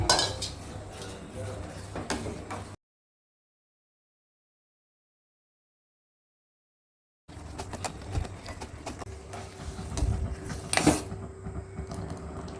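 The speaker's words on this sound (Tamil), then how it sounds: "இப்போ இந்த பாலில் கஸ்டர்ட் மில்க்கு ஆட் பண்ணலாம். நல்லா கலர்ந்துக்கோங்க." Custard mix is stirred into milk in a pan, with close scraping and clinking of a utensil against metal, interrupted by a silent gap midway before the stirring resumes.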